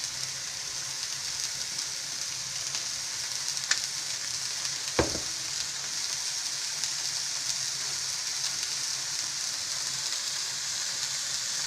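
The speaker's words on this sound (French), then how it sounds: "Pendant que vos steaks cuisent" Hamburger steaks of minced beef seasoned with salt and pepper sizzle steadily in a pan, a constant close frying hiss with a couple of brief clicks.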